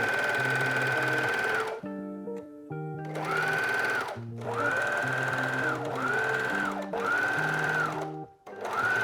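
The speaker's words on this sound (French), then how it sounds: "Et c'est reparti avec la surjeteuse" An overlock serger stitches jersey fabric for a beanie in repeated loud whirring bursts, each a few seconds long, separated by brief pauses.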